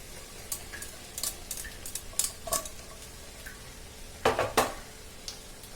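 Chicken biryani rice tipped into a pot in a home kitchen, a few soft scattered clatters and rustles early on, then a louder cluster of metallic scrapes and thuds near the end.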